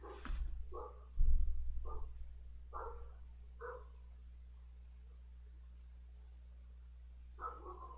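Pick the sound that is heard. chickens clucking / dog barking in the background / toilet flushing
dog barking in the background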